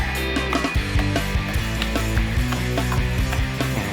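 A pepper grinder cranks Costco whole peppercorns onto a ribeye steak, a close, steady ratcheting crunch of rapid clicking and grinding that runs continuously for a few seconds.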